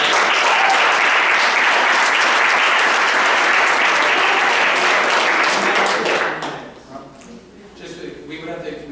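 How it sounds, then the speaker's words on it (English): Loud, close applause at a student senate meeting for a graduating senator, dense clapping that cuts off sharply after about six seconds, leaving murmured talk and a few stray claps. "give him a round of applause"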